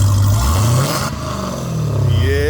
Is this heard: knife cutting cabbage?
no